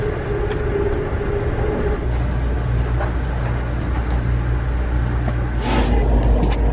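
An Amtrak train pulls away from the station, a steady low rumble and hum of the rolling train with faint clanks and a brief hiss near the end, heard from on board.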